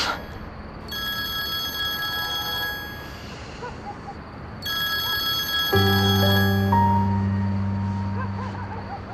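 A mobile phone rings in bursts of bright electronic ringtone tones, two long ringing spells separated by a pause, with a lower melodic tone sequence joining near the end, loud and close with no talk.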